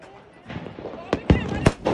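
Diwali firecrackers burst at a family celebration: three or four sharp, loud bangs in quick succession, with excited voices talking around them.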